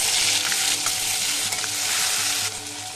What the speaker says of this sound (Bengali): এবার আমি এই তেলের মধ্যে মাছটাও ভেজে নেব।